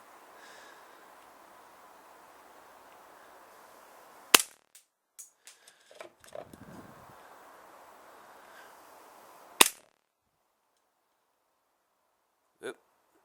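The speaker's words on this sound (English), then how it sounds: "I'm going to do a chrono test for you now and show you what it's shooting" Two sharp, loud reports from an APS ACP Glock-style CO2 airsoft pistol firing 0.20 gram BBs during a chronograph test, about five seconds apart, with small clicks and handling noise between them and a faint final click at the end.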